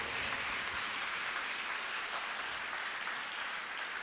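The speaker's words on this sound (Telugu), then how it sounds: "గట్టిగా చప్పట్లు కొడదాం." A church prayer congregation clapping loudly and continuously, a dense, steady wash of many hands throughout.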